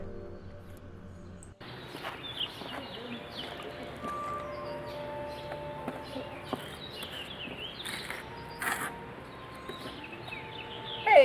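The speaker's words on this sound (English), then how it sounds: "There will be some bird chirping" Birds chirp outdoors in scattered, thin calls, faint and somewhat distant, over a steady background hum with occasional soft taps.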